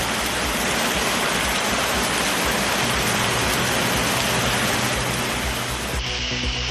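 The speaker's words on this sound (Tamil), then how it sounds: "மதுரை, திருமங்கலம் மற்றும் தேனியில் காற்றுடன் கனமழை." Heavy rain with wind hits Madurai, Thirumangalam and Theni, a dense, loud, unbroken roar of downpour that holds steady and then drops off sharply just before the end.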